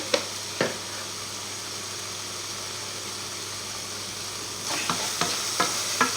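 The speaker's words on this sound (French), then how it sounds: "Là, on remue." A cheese soufflé mixture is stirred in a bowl, with a few soft scraping strokes at the start and a quicker run of close, light clinks and scrapes near the end over a faint steady hum.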